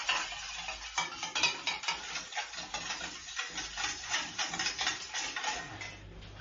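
A tomato and egg mixture seasoned with black pepper being stirred in a bowl: rhythmic, close scraping and clinking of a utensil, repeated steadily with no talk over it.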